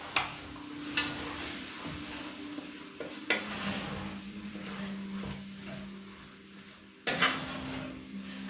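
Beef being stirred through flour in a pot for a homemade beef stew: a steady scraping, stirring rustle with gentle sizzling underneath and louder clanks of the spoon against the pot near the start, around three seconds and near seven seconds.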